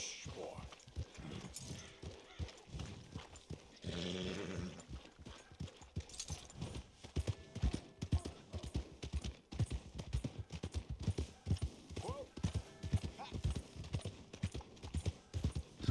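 Steady hooves clip-clopping at a walking pace in Red Dead Redemption 2, close by, with a few brief snorts and faint talk in the background.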